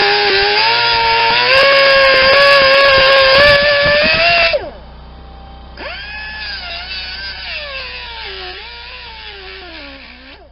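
A pneumatic cut-off wheel grinding into the race of a 2005 Toyota Sienna front wheel bearing, giving a loud, piercing high-pitched whine that stops abruptly, then returns at lower intensity and wavers in pitch as it bites into the metal.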